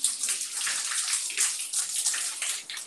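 Cold water runs from a tap on an organic farm in Nepal, a loud, steady splashing gush close by that continues throughout.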